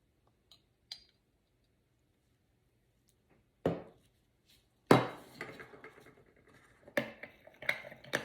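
A spoon mixes colorant into a tablespoon of alcohol in a small container, giving scattered clinks and scrapes that build into a busier run of tapping toward the end, with quiet gaps between and no talking.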